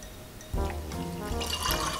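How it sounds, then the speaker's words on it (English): About half a cup of water poured into a mug holding macaroni for microwave mac and cheese, a close, steady liquid stream that starts abruptly and runs on with bright splashing. "Now, add around a half a cup of water."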